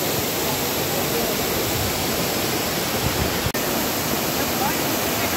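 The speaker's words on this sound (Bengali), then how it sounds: "আমরা বিলাসী ঝর্ণায়।" Bilashi waterfall in Sitakunda's forested hills, a dense unbroken roar of falling water close by, steady throughout with one brief click near the middle.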